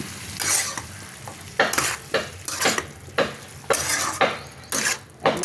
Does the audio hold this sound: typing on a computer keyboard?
no